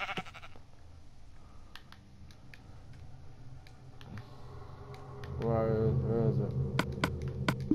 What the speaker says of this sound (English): Why is a sheep by here?